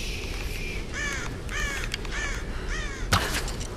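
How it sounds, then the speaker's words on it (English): Crow caws from the Tomb Raider video game, several repeated harsh calls in a steady rhythm over constant ambient game noise, followed by a sharp sudden impact sound near the end. "I tried to get a crow. I guess you can't hit the birds."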